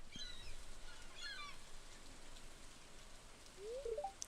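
Rain falls steadily in the farming video game Stardew Valley, a soft continuous patter heard alone at low volume, with a few faint short honking or chirping game tones near the end.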